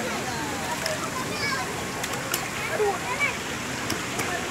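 Swimming pool at Tirta Mas Modern Land, people splashing and swimming in the water, producing a continuous broad wash of splashes with scattered sharper slaps, under children's and adults' voices.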